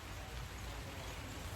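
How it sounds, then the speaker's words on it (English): Steady rain falls outdoors, a dense, even hiss with a low rumble underneath, constant and close throughout, with no voices. "Yep, it's raining and I'm outside."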